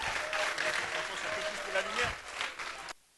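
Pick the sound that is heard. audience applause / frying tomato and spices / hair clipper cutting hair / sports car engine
audience applause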